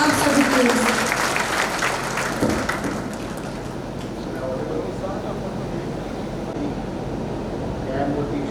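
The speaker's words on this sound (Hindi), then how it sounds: "जोरदार तालियां आप सभी के लिए" Applause at a court building inauguration ceremony rises strongly at first, then fades into a dense, steady crowd murmur with voices mixed in.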